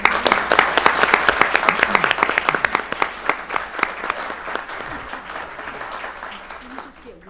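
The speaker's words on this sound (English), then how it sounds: "let's give these ladies a round of applause" A school board meeting audience applauds a group of women performers with sustained, fairly loud clapping that gradually thins out and fades toward the end, with a few voices mixed in.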